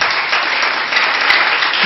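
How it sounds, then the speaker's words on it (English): Steady church congregation applause and clapping, a dense, continuous wash of many hands that holds at an even level throughout, with no speech over it. "Can we clap for Jesus?"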